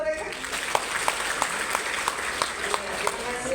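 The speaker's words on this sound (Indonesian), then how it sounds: "boleh tepuk tangan buat mereka" A crowd claps along in a steady rhythm, with regular louder beats over a busy background of voices.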